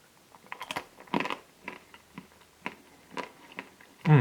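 Crisp bites and chewing crunch on a Zott Monte ice cream, a series of sharp irregular crackles close to the mouth with quiet pauses between them.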